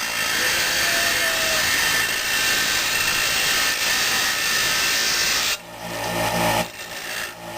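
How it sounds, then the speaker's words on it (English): Thin metal for a Maytag model 92 gas engine repair is held against a spinning grinding wheel, a loud steady abrasive hiss lasting several seconds, then easing to a quieter whirring wheel with lighter intermittent contact. "this thin metal does get hot when you're working on the grinding wheel"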